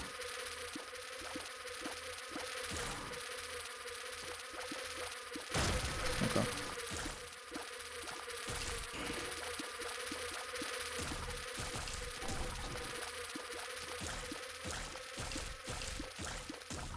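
Flies buzz in The Binding of Isaac: Repentance, a continuous insect drone layered with other game sounds at a moderate, steady level.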